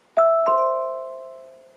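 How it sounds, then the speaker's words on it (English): A HomePod plays a doorbell chime, two clear bell-like tones struck in quick succession that ring on and slowly fade in an otherwise quiet room. "When someone presses the doorbell, the HomePod will play a chime to let you know someone is at the door."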